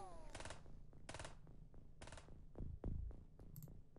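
Reaction fire in the video game Open X-Com: several rapid automatic-weapon bursts crackle in quick succession, mixed with sharp single shots and falling whooshing tones, fairly quiet overall.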